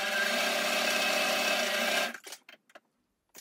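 A sewing machine runs steadily as it stitches patchwork fabric squares for a cushion, a continuous close whirring hum for about two seconds that stops abruptly, followed by a few soft handling knocks.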